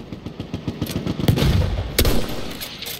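Gunfire in the Battlefield 1 video game: a rapid close burst of automatic shots, then a few heavier sharp reports and a loud crack near the two-second mark.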